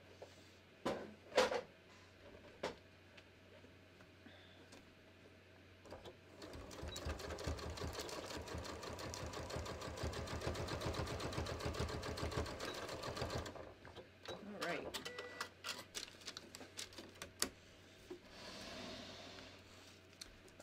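Sewing machine stitching a seam on a sleeveless shirt at a short stitch length, a steady fast whirring run of about seven seconds, near and fairly loud, framed by quieter handling clicks before and after.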